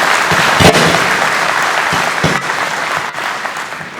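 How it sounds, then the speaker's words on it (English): Loud, steady audience applause fills a ceremony celebrating Ethiopian Airlines Group, a dense wash of clapping with a few sharper claps standing out throughout. "needs to be celebrated with a beautiful round of applause"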